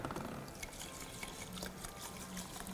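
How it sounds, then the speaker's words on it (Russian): Water pouring into the container of a food steamer, a steady low splashing stream that runs continuously and fairly quietly, with no voices over it. "Я наливаю воду в контейнер примерно в соотношении 2 к 1"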